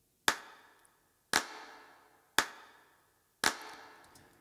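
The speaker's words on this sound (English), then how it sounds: "And the claps, they sound like this." Recorded hand claps, high-passed with light overdrive and sent through short room and plate reverbs: four sharp, evenly spaced claps, each trailing off in a long, ringing tail.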